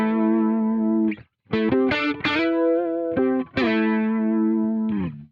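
Electric guitar run through the Archetype: Tim Henson Multivoicer plugin with one harmony voice panned center and set just under the dry signal, sustained processed notes in several phrases separated by short gaps, loud and close.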